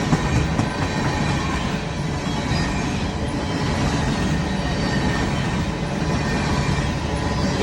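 BNSF coal train rolling past on the rails, a steady loud rumble with wheel clatter filling the whole stretch, close and continuous with no voices.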